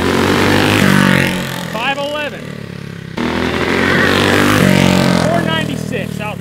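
A small Predator 212cc gas engine on a go-kart buzzes and revs loudly up close, rising and falling in pitch, with voices talking over it.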